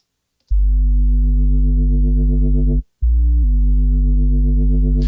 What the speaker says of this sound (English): let's see what that synth bass part sounds like